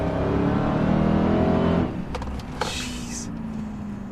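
A 2017 Dodge Charger Hellcat pulls hard in second gear, its loud engine roar close and steady for about two seconds before dropping to a lower drone with a few faint clicks and rattles.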